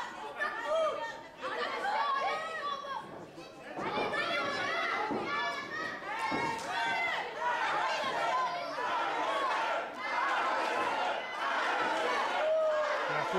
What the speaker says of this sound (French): La foule qui est derrière Ian Harrison, on les entend